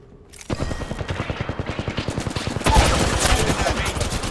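Rapid automatic gunfire in the video game Apex Legends during a ranked arena match, loud bursts of shots in a steady fast rhythm that thicken into a denser barrage near the end.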